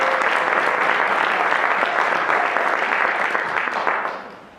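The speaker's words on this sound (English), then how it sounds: "A huge round of applause, please, guys." Audience applauding at an English speech contest run by Toastmasters clubs, a dense, loud, sustained burst of clapping that fades out near the end.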